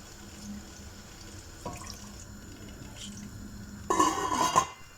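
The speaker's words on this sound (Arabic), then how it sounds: "بحط فيها تقريبا لتر ونص مي من الحنفية" Tap water running into a cooking pot set on a gas stove, a quiet trickle that starts, pauses, then surges into a brief louder splashing fill before cutting off.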